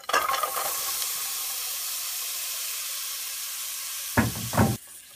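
Vegetables hit hot olive oil in a pan and sizzle with a steady, loud hiss, rising briefly with a couple of stirring scrapes near the end; no voices.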